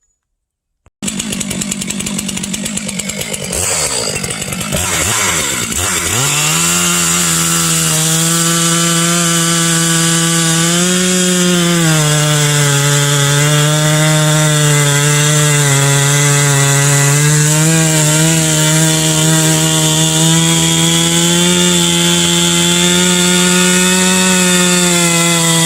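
A chainsaw starts, revs up and then cuts steadily and loudly through a cedar log, bucking off the end in one long, continuous cut.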